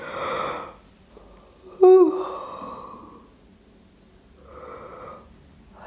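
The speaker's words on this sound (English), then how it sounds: "See if you can find a yawn, stretch." A person lets out a long, breathy yawn with a brief strained vocal squeak in the middle, close and quiet, between soft breaths.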